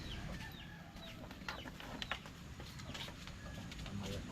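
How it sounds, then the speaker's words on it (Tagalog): Chickens cluck softly and intermittently at a distance amid a faint outdoor background hum, with a few sharper calls standing out. "Manok."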